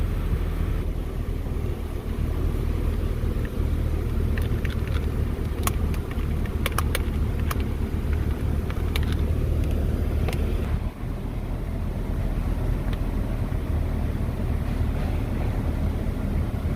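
A 2012 Ford Fusion engine idles with the air conditioning on max and the blower running. It makes a steady, dense rumble and whoosh with a few faint clicks and a brief dip partway through.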